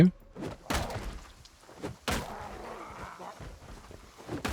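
Zombies banging on a house's front door in the video game Project Zomboid: several heavy, irregular thuds and knocks, close and loud, with a dull background between the hits.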